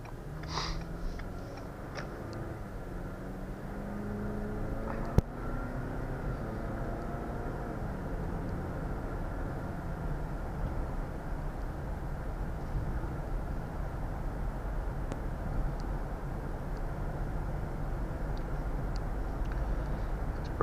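A 2020 Ford Explorer XLT accelerates hard from inside the cabin, its engine note rising and falling through the transmission's gear shifts under a steady rush of road and wind noise.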